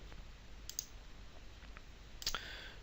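A single computer mouse click as Play is pressed in the Unity editor, soft and close against a quiet hiss, with a second faint click shortly after.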